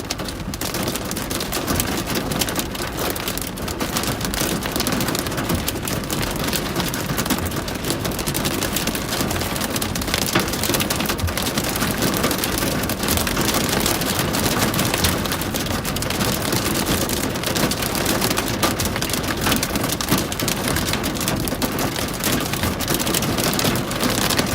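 Heavy fall of very small hail in a Colorado Springs thunderstorm, a dense, constant loud hiss and patter of pellets striking surfaces, steady throughout with no voices.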